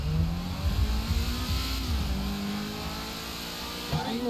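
A car engine in GTA V roars and revs at speed, a loud sustained drone with rising pitch sweeps as it accelerates, easing slightly toward the end.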